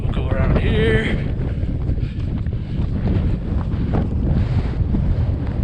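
Strong wind on a hilltop roars across the microphone as a continuous loud buffeting rumble, with a brief faint tonal squeak early on.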